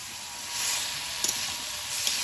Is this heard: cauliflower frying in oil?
yes